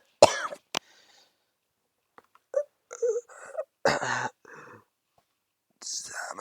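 A young man coughs violently while coughing up blood, a harsh burst followed by a couple of short hacks, then strained, ragged breaths and weak cough fragments.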